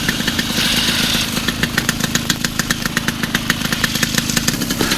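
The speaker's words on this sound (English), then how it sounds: "So that's engine start at" A FlyLight Aeros NiNE microlight aircraft engine starts with a brief whirring crank, then settles into a steady, close, rhythmic idle with a regular knocking pulse, heard alone.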